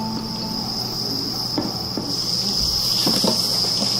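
A loud, steady high-pitched drone of countless farmed crickets chirping at once, with faint rustling and shuffling noises of egg crates underneath.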